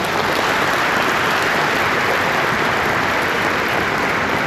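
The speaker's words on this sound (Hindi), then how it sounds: "तालियां बजा करके मुझे माहौल दीजिए।" A crowd at a Hindi poetry recital (kavi sammelan) during a Ganesh festival in Yangon claps steadily, a dense, loud, even wash of applause with no voices, lasting the whole moment.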